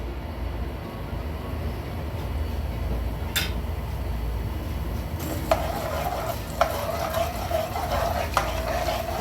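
Chana dal and urad dal fry in oil in a pan for upma, a steady soft sizzle with occasional sharp scrapes and clinks of a spoon stirring, close and continuous.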